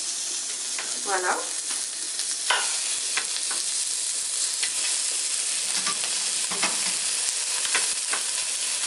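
Beef chunks of about 4 cm sizzle and fry in a very hot cast-iron pan, with a steady bright crackle, stirring scrapes and brief spoon clatters, close and continuous, with a short spoken word early on.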